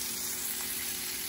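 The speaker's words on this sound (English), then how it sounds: "we got the steak cooking" Steak frying in a pan, a steady, dense sizzle that holds evenly throughout the short moment with no voices.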